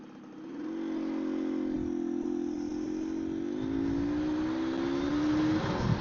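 A 1969 BSA Bantam motorcycle ridden along a rural road in the Fens in winter, its small single-cylinder engine humming steadily and rising slightly in pitch as it pulls, close and continuous with wind rumble.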